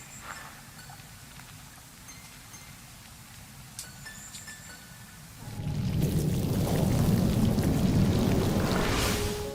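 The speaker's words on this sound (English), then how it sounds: "Central to the show is a huge, earth-shattering, tumultuous storm" A tumultuous thunderstorm from a stage show starts with light patter and scattered crackles, then swells into loud, dense rushing rain with rumbling thunder that continues to the end, with no voices.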